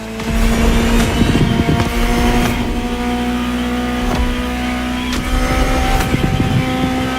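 The engine of a Ferrari 250 GTO in the driving game The Crew Motorfest, a loud steady drone with a sustained tone and occasional shifts in revs, alone with no voices.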